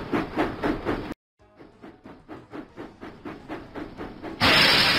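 Steam engine chuffing from the Thomas and Friends video game: rhythmic steady puffs, a brief pause, then a faster run of chuffs ending in a loud burst of hissing steam.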